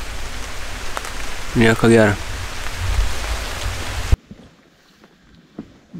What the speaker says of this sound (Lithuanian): Lietus, rūkai,